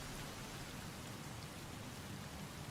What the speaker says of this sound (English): Yeah, it is raining.